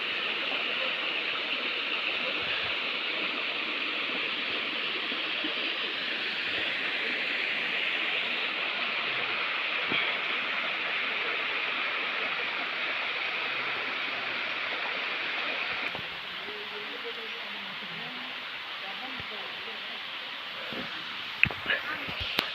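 The Vastapur waterfall, running with low water, gives a steady broadband rush of falling and flowing water that holds constant, then drops slightly in level partway through, with a couple of faint knocks near the end.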